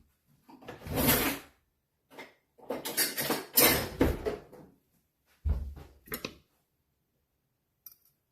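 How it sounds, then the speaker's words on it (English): Cutlery scraping and clinking on a plate while a steak is cut, several short bursts of knife-on-plate noise with pauses between them, close and fairly clear, no talking. "Let's cut the steak."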